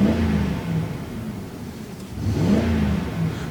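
A 2005 Ford Expedition's engine, fitted with a new throttle position sensor, revs up close by, eases back, then rises in a second smooth rev, with no talking.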